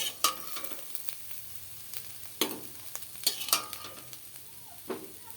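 Small mourala fish fry in hot oil in a pan, a soft sizzle broken by sharp clinks and scrapes of a spatula stirring against the metal at uneven intervals.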